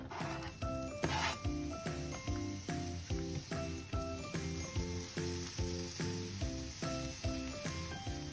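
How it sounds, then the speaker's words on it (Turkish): Oyster mushroom stems frying in foaming melted butter in a pan, a steady close sizzle under a repeating rhythmic musical pattern. "eriyip köpük köpük olan tereyağının içerisine mantarlarımızın sap kısmını"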